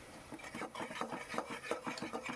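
A spoonful of ginger-garlic paste for a Kolkata-style chicken stew is stirred around a pan, a steady rhythm of close scraping and rubbing strokes with a faint sizzle underneath, no voices.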